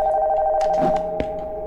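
A telephone rings from upstairs in a scary video game, a steady electronic tone holding throughout, broken by a few soft knocks and a sharp click partway through.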